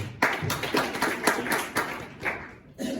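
Audience at a live show in Burundi clapping together, a steady run of sharp hand claps over about three seconds, fairly close and loud, with a brief lull before the clapping picks up again at the end.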